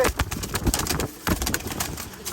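Pigeons coo repeatedly inside a loft, close and fairly loud, with soft throaty calls overlapping and a brief rustle of movement between them.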